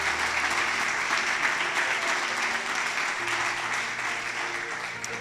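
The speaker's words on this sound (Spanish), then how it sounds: "Vamos a darle un fuerte aplauso al Señor por ellos." A church congregation applauds loudly and steadily, a thick wash of many hands clapping that fills the room throughout with little break, with faint voices underneath.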